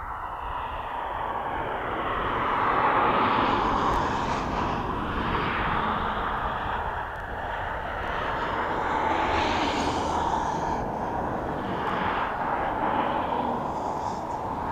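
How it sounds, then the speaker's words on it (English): A Ryanair airliner rumbles and whines at East Midlands Airport, a broad, steady jet roar that swells and eases over the whole stretch, heard from a distance with no voices. "It's just a Ryanair, don't worry."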